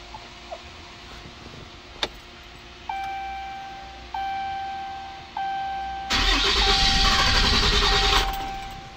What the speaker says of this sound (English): Now I'm gonna go ahead and prime the truck, and then I'm gonna start it